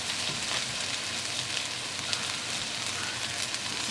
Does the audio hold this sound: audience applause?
no